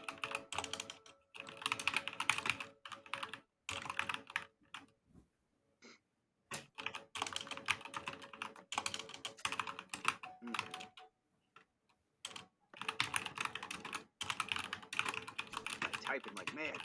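Rapid clattering keystrokes on a computer keyboard during an online Dungeons & Dragons session, typed in dense bursts with short pauses, close to the microphone, while voices talk at times.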